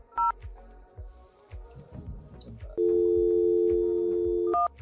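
A VoIP softphone on an Elastix setup plays short dialing tones, then a long steady call tone, followed by another brief beep, with faint low thumps and background noise underneath.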